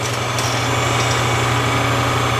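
A geared machine drive on a large dapping block rig runs at a steady, even hum with a constant low drone and faint higher whine, loud and close with no talk.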